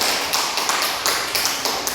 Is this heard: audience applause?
yes